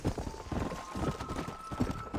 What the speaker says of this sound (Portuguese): os cavalos aqui correm, tá, mano? O cavalo corre mais.